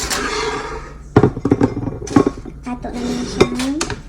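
Plates and metal cutlery clatter and clink in a home kitchen while preparing leche flan, with bright scrapes and knocks in quick bursts, close and fairly loud, and some voice in the background.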